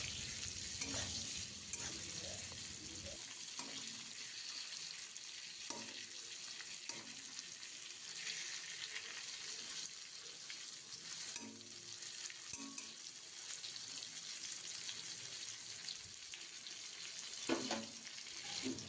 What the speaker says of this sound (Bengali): এবার এটিকে হালকা লাল করে ভেজে নেব।